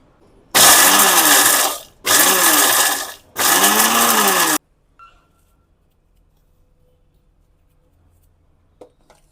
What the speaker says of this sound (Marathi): आता यानंतर आपण एक मखाने मिक्सरमधनं बारीक काढून घेऊया